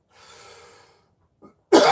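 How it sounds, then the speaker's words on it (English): A single harsh cough bursts out at the end, preceded by a soft breathy exhale and a brief throat sound, close and loud with no talking. "I've been coughing."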